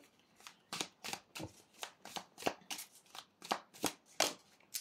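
A deck of playing cards is shuffled repeatedly, about a dozen crisp riffling bursts in a steady rhythm, close and fairly quiet, with no talk.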